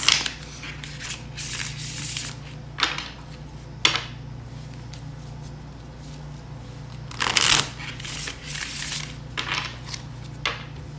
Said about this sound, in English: Just going to shuffle a few more times